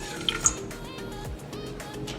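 Hot water poured into a blender jar with instant coffee and sugar for whipped Dalgona coffee, a steady liquid splash and trickle running throughout, with a couple of small clinks near the start, close and fairly quiet.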